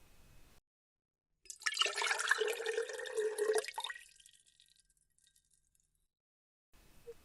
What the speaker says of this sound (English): here's the wine too. Want me to pour some for you?